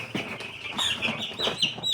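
A week-old chick on a homestead peeping in quick, high chirps, several short calls spread over a couple of seconds, close by with faint background noise.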